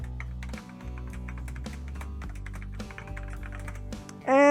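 A root password being typed on a computer keyboard for a Raspberry Pi, a quick run of close, crisp key clicks in uneven rhythm over a low hum, then a brief tonal blip at the very end.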